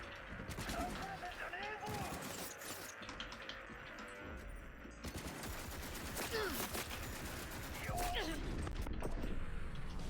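Pistol fire from a gunfight in Cyberpunk cracks out in sharp, repeated shots at uneven intervals, fairly faint under busy game ambience and other combat noise.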